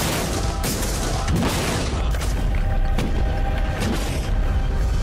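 Tanks fire rapidly at a Lamborghini, a loud, dense barrage of booming blasts and rumbling impacts that fills the whole stretch without a break.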